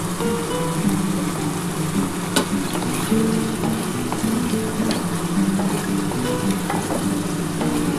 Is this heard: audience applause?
no